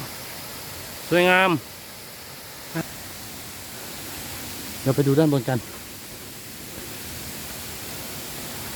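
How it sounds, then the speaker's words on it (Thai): A waterfall's steady rushing water roars without a break, and someone speaks briefly twice over it. "น้ำตก"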